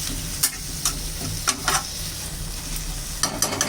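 Washed Malabar spinach stalks tipped with a little water into a hot pan, giving a steady sizzling hiss broken by several sharp scrapes and clatters of a spatula stirring against the pan, close and fairly loud, with no voices.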